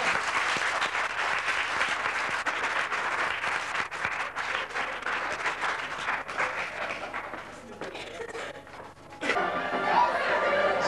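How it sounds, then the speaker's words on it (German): Audience applause at a 1993 stage hypnosis show, sustained clapping from a crowd that fades briefly and then swells again near the end, with a little chatter underneath. "Applaus, meine Damen und Herren."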